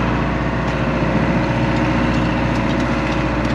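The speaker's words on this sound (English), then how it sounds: "So I'm just gonna go in and check the engine." Boat engine idling after a new cylinder head was fitted, a steady low mechanical rumble with an even, continuous drone, close and loud, no voices.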